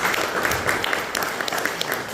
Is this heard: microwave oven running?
no